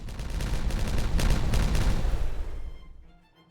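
Demolition blast in the beaver colony game Timberborn, a loud rumbling explosion with crackling debris that builds for about two seconds and then fades out to near silence.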